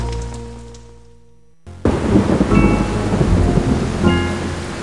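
Rain and thunder in the video game Cluefinders 5th Grade Adventures: after a quiet musical fade, a loud crack of thunder breaks into a steady, close downpour of rain that rumbles on without talk.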